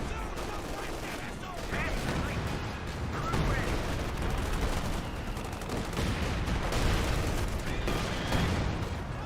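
A Panzerwerfer rocket barrage in Company of Heroes 2 battle sounds as a continuous, loud rumble of explosions and gunfire that swells in waves, with chaotic battle noise throughout and speech mixed in.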